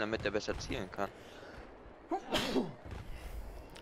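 People talk briefly, then one loud, sharp sneeze bursts out close by, followed by quieter talking, during a Battlefield 3 multiplayer session.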